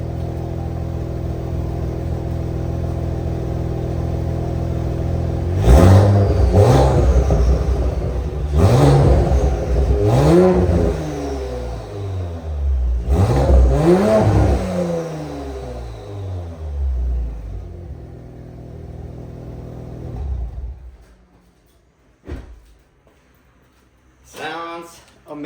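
A 2018-2022 Audi S4 with its exhaust valves held permanently open revs up in several loud, sharp bursts, each rising and falling, then settles to a low idle and cuts off near the end.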